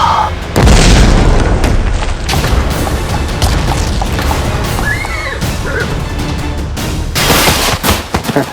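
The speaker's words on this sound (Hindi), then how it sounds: "विस्फोट हुआ है" Bomb blast set off to break out of a royal palace: a loud booming burst hits near the start, then dense rumbling crashes and debris-like cracks continue steadily throughout.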